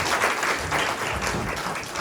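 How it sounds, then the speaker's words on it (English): A room of course attendees applauds, a thick, close burst of clapping from a small crowd filling the whole moment with steady rhythmic claps. "Lynn, Alan, and Fiona, can we give them a round of applause?"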